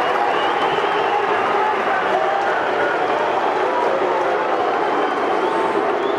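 A dense, constant roar from a stadium crowd at an AFL match between Gold Coast and North Melbourne, reacting in displeasure, loud and unbroken from start to finish.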